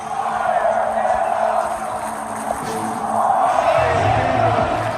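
Capacity stadium crowd at a Pittsburgh Steelers football game roaring and cheering in a broad, sustained wash of voices, swelling louder toward the end.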